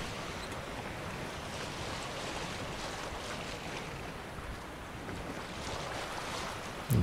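Sailing boat in The Witcher 3 moving across open water, with a steady wash of waves and wind rushing past the hull, constant and even throughout with no voices.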